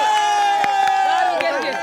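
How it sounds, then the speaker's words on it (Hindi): A street protest crowd in Jharkhand over JPSC-JSSC exams breaks into brisk clapping and cheering, loud and close, with raised voices and shouts mixed through the burst. "एक बार ताली बजा दी भैया"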